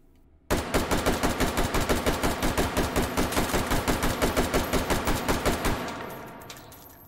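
Rapid, loud semi-automatic shots from an AR-15 short-barreled carbine fitted with a muzzle brake in the H3VR virtual reality game, about thirty sharp reports in a steady fast rhythm, followed by a brief fading tail.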